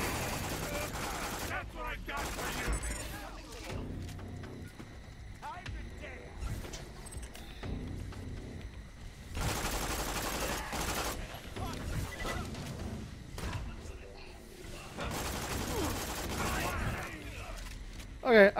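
Repeated bursts of gunfire ring out in the video game Borderlands The Pre-Sequel, fairly loud and spaced through the stretch, with in-game sounds and voices between the volleys.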